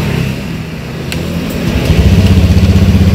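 A used motorcycle's engine is started and idles nearby with a loud, even, throbbing putter.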